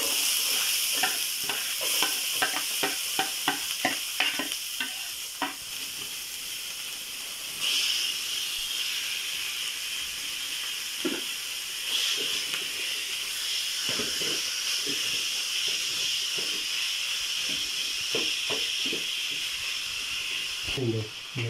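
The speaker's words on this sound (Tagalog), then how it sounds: "bali gisa natin yung ground pork guys. Lagyan natin ng konting mantika." Ground pork and onions sizzle and hiss in a little oil in a pan, with stirring scrapes and utensil clinks repeating through the frying and a few brief words spoken.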